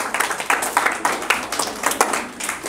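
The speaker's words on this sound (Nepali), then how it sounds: "ताली बजाएर येशूलाई महिमा दिउँ" A church congregation claps in rhythm, bursts of close, bright hand claps landing in an even beat with no talk over them.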